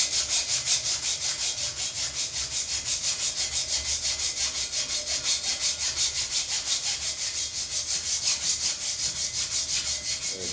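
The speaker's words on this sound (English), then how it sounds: "Just going to clean it up with file and some emery paper or emery cloth" Metal vice parts being cleaned up with a file and emery cloth, giving a steady, rhythmic back-and-forth rasping scrape, repeated strokes at close range with no talk.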